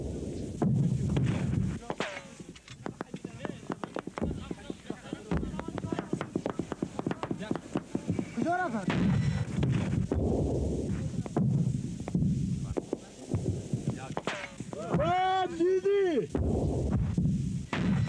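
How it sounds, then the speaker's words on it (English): A mortar and recoilless rifle barrage of covering fire during the Soviet invasion of Afghanistan, heard as dense, continuous booming and cracking reports with no breaks. Voices briefly shout above the din. "mortars and recoilless rifles began a barrage of covering fire"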